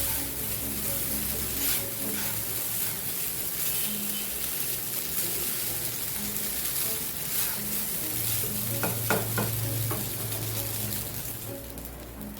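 Chicken fried rice sizzling and frying in a pan, stirred now and then, with a steady dense crackle throughout and a few sharper scraping stirs near the end; no one speaks.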